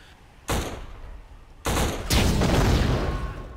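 Gunfire and crashing destruction from the 2006 video game Black: a quiet lull broken by a loud burst of shots, another sharp burst, then sustained rapid fire and debris noise.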